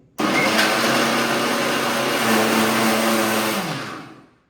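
A mixer grinder grinding badam milk powder whirs loudly and steadily for a few seconds, then winds down as it's switched off.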